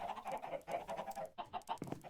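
Several chickens cluck in quick, busy bursts close by, a lively flurry of short clucks with no talking.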